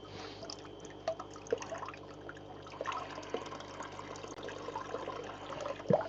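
An old brine shrimp hatchery siphon lets water trickle out slowly, producing faint, irregular drips and small gurgles over a low steady background, with no speech.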